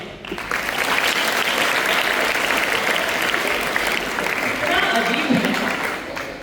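Audience applause at a Hindi poetry recital, a sustained wash of clapping from a large crowd, loud and steady, with some voices mixed in.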